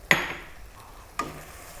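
Turmeric, coriander, chili and cumin powders are stirred in a hot pan for lamb curry, two short scraping stirs with a faint sizzle trailing after each.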